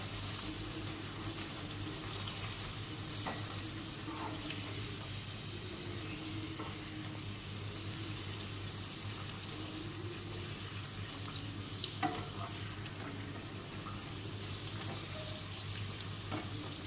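Luchi deep-frying in hot oil gives a steady, even sizzle and bubbling that runs unbroken throughout, with a low constant hum underneath and no voices.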